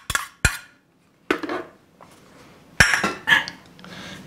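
A spoon clinks against a bowl while Thai roasted chili paste is stirred and dissolved, giving a few sharp metallic taps and scraping strokes with quiet gaps between them, close and alone.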